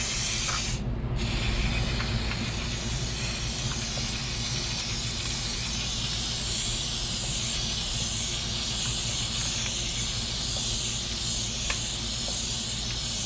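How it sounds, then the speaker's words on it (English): An aerosol can sprays lubricant onto a motorcycle chain while the wheel is turned, a long continuous hiss held close to the microphone with only slight variations and a brief clunk early on. "So I'm gonna turn the wheel and then spray, turn the wheel, spray"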